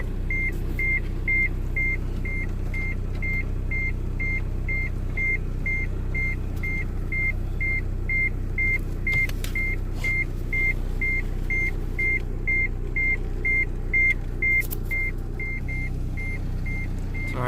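A Honda Integra's seatbelt warning chime beeps in a steady, evenly spaced series throughout, over the low rumble of an idling, misfiring engine.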